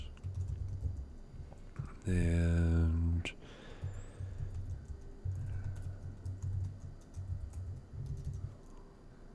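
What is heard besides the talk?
typing on a small computer keyboard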